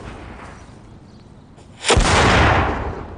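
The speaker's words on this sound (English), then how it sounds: "burn it in a confined space and then channel the explosion down a barrel." A loud blast of burning powder bursting in a confined space and channelled down a barrel, booming suddenly after quiet and sustaining a heavy roar that tails off slowly.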